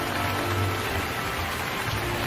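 Rain falls in a steady, dense hiss that covers the whole stretch evenly, with no voices.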